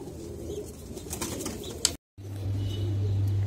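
A young racing pigeon from a 165 km bloodline flaps its wings in a brief flurry of soft fluttering close by, over a low steady background hum and faint cooing, with a momentary dropout before a sustained droning tone.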